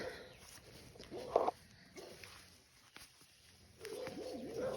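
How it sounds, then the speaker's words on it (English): A dog barks a few times at a distance, short bursts separated by pauses, with faint outdoor background noise. "the dog next door barking at us like we're strangers."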